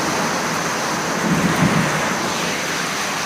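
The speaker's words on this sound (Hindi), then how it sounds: "बहुत ही तेज बारिश की वजह से" Heavy rain pours in a steady, dense hiss during bad weather, loud and continuous with a faint low rumble, and no voices.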